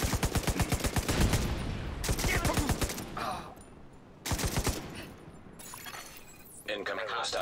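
Automatic rifle bursts in The Division 2, loud rhythmic rattling volleys that start and stop, with glass-like impacts and shouted in-game voices between them.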